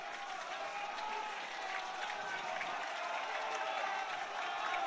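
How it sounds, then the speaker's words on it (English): Scottish rugby crowd at a Scotland 'A' versus England Saxons match, a steady, dense wash of applause and cheering that holds loud and unbroken throughout, with no clear voice above it. "So the Scottish crowd trying to get right behind the Scottish side as they continue to push England."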